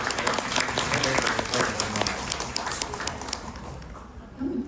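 An audience applauds a man called Rong-go at a community gathering, a steady wash of clapping that holds for several seconds, then thins and fades toward the end.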